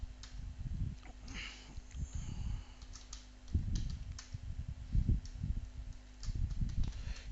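Names typed on a computer keyboard, with steady bursts of key clicks coming in uneven runs and pausing briefly between words, close and fairly quiet.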